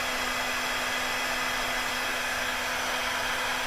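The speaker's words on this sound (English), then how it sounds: "I just prefer a heat gun because the heat gun gets only so hot and you don't burn them up" A heat gun blows steadily as it shrinks a heat-shrink butt splice connector, a loud, continuous whooshing hum with a constant tone that holds unchanged throughout, with no talking.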